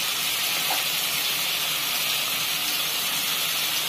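Ground spices for paneer bhurji frying in a pan, a loud dense sizzle and hiss that holds steady throughout without a break, close by and without any talking.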